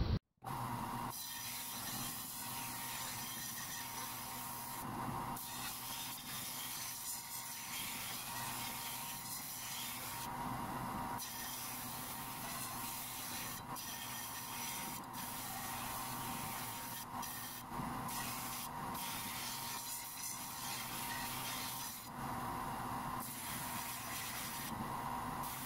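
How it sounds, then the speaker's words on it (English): A power sander works a wooden atlatl blade: continuous, close, gritty rubbing with a few short breaks where the tool lifts off. "I'm going to sand the blade with my brand new toy"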